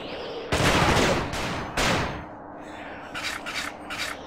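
Gunfire aimed at creatures in John Carpenter's The Thing, two loud close bursts of rapid shots followed by three short, quieter bursts near the end.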